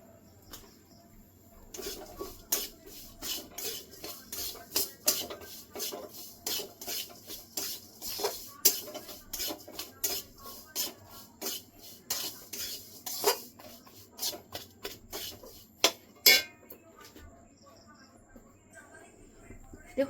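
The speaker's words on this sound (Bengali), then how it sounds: "অনেকক্ষণ টাইম নিয়ে মেশাতে হবে এটাকে" A spoon scrapes and clinks rapidly against a bowl while sandesh mixture is stirred together with food colour, a dense run of close, sharp metallic ticks and rasps that thins out near the end.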